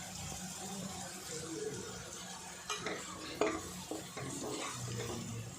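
Ragda chaat mixture with green chili being stirred in a pan, quiet spatula scrapes and clanks against the metal over a low sizzle.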